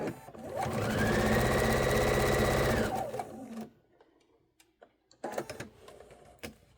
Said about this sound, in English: I just keep sewing to the edge